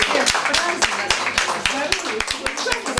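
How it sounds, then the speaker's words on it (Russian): Small gathering at a Family, Love and Fidelity Day event applauding, with sharp irregular claps standing out from a few hands and a voice talking over them. "Оксаночке аплодисменты"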